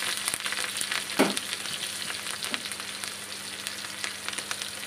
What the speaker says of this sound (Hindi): अब हम एक चम्मच इसमें जीरा डालेंगे, कटी हुई लाल मिर्च डालेंगे